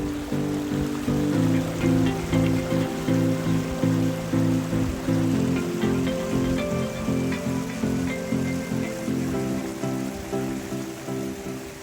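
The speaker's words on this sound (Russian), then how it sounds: "Всегда можно ловко использовать переход через ручей Ефрат." A stream runs at Ein Prat, a desert oasis near Jerusalem, past a eucalyptus grove. The water makes a steady, close, full rushing and babbling that stays loud and even with no pauses, and no one speaks.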